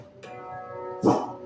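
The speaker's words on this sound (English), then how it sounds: "I'm having to get this dog because he's just in that mood. He barking at our neighbors" A dog gives a few yips and whimpers and then a single sharp bark, fairly close but not loud, with no talk over it.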